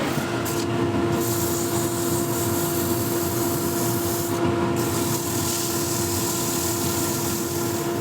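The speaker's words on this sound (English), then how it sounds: "I'll turn on the dust extractor" A dust extractor runs steadily in a woodworking shop, a constant whirring drone with a steady tonal hum, broken by a couple of brief hissy bursts.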